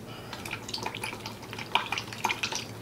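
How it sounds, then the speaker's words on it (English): Oil-based colorant being stirred into a soap mixture, giving continuous soft wet scraping and sloshing with small clinks, moderately close and steady, with no talking. "then stir it up and see if it's gonna work"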